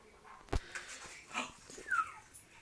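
A pet bird mimics a dog, giving a sharp bark-like burst followed by a few softer whimpering yips over a quiet indoor background.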